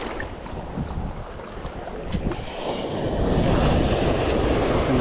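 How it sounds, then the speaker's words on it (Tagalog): Steady rushing sea waves churn and wash nearby in shallow water, with wind buffeting the microphone throughout. "Mababaw lang pero malalaki yung alon."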